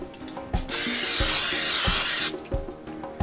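A loud, sustained hiss of cooking spray into a hot pan lasts about a second and a half, framed by clattering knocks and clicks of kitchen handling before and after.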